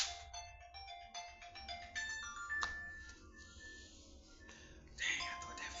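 A phone ringtone plays a tinkling electronic melody at fairly low level in a quiet room, its tones repeating and sustaining over several seconds, with faint murmuring underneath.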